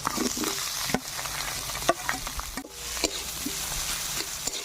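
Chopped onion and green chilli fry in oil for a village-style roti dish, a loud close sizzle punctuated by heavy stirring knocks and scrapes roughly once a second.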